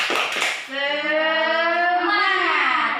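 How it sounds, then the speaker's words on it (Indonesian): A classroom of children does a rhythmic spirit clap led by their teacher, a short burst of hand claps giving way to a sustained group chant in unison. "Tepuk semangat."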